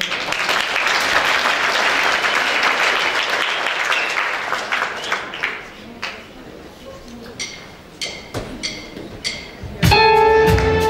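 An audience at the Klusie ūdeņi 2015 event in Aizkraukle, Latvia, applauds to welcome a singer, with loud sustained clapping that thins out into scattered claps before music begins.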